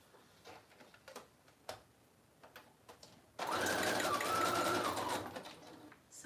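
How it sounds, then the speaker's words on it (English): A sewing machine stitching around the edges of paper envelopes whirs steadily for about two seconds, close and loud, after scattered faint ticks and taps. "So I'm just sewing around the 3 edges."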